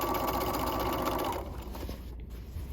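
A sewing machine edge stitching along the brim of a bucket hat, its needle whirring in a fast, steady run that slows and eases off toward the end, close and alone.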